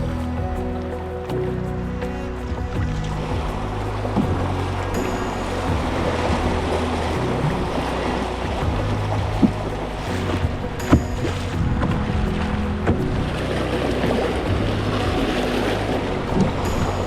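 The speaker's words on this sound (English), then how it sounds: "And we just dodged a big section of white water." A fishing float boat drifts down a British Columbia river past white water. A steady wash of rushing water and broadband noise runs throughout, with occasional knocks and splashes.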